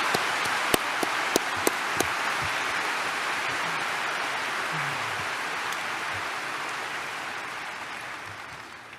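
Steady, dense applause from a large audience at the Berkshire Hathaway 2019 annual shareholder meeting fills the hall, a wash of many hands with a few sharper claps near the start, holding for several seconds before easing slightly.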